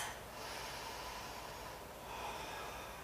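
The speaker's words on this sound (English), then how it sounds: "Take a big breath here." A deep breath is drawn and released during a stretch, a long, airy inhale and exhale close to the ear with a faint nasal snort, heard alone without talk.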